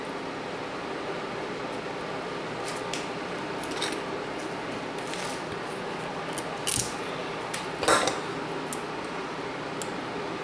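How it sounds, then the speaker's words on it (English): Scissors cut the metal tab off a cell in a rebuilt battery pack, giving a few quiet snips and clicks with one sharper snap near the end against a low room hiss. "I'm just going to cut the tab off of it here so I can solder it onto another tab from another good cell."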